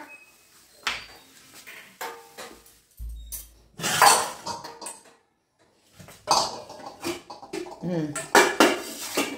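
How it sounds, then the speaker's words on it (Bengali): Metal basins and vegetable baskets are dragged and set down in a home kitchen, giving loud, close clanks and clatters in two bursts with a quiet gap between them. People talk intermittently around the noise. "ওইগুলো সরাও চন্দনা, ওই গামলা টামলাগুলো বের করো তো"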